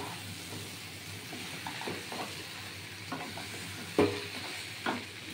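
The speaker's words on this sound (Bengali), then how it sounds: "এইবার সুন্দর করে কাটাটা উল্টিয়ে পাল্টিয়ে ভেজে" Bhetki fish bones fry on high heat in a pan while being turned, with a steady sizzle punctuated by intermittent spatula scrapes and a louder clank near the end.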